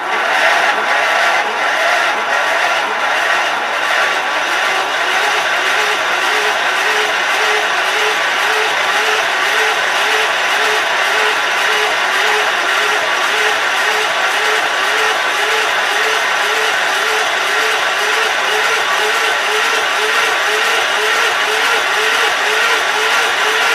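A Gravely K361 tractor engine cranks over continuously on the starter with a fast, even whirring chug that stays loud and close for the whole stretch without catching.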